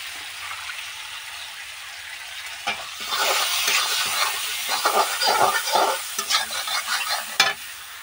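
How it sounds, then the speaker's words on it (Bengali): Prawns with salt and turmeric fry in a pan, a quiet hiss swelling after a few seconds into louder, close crackling sizzle with scraping stirs and clinks; no one speaks. "এখান থেকে একটু ভেজে নেবো প্রথমে।"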